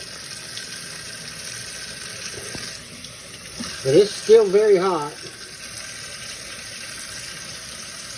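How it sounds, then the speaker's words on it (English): Cold tap water runs over homemade cheese curds as a steady, soft hiss throughout, while a person speaks briefly over it. "Run cold water over it so you can squeeze it."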